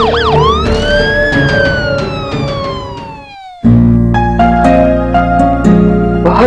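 An ambulance siren wails loudly and close, with a rising-falling sweep that cuts off abruptly and then returns as a steady layered electronic tone, with no speech over it.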